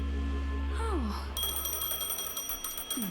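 A phone ringing in the video game Honkai: Star Rail, with a bright, repeating electronic ring that starts partway through, following falling synthesized tones over a low game hum.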